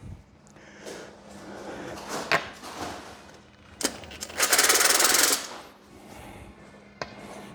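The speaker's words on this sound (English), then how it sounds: "I'm using my flag to see how my drill's turning." A power drill turns during solo self-leveling underlayment work on a concrete floor, with faint intermittent whirring and one louder, harsher burst near the middle, in a quiet room.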